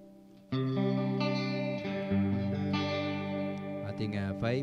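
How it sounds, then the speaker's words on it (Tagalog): Electric guitar played through an M-VAVE Tank G multi-effects pedal on a modulation-and-reverb preset, sustained chords ringing with a shimmering, wavering wash and reverb tail, loud and close, with no talking. "Modulation at reverb."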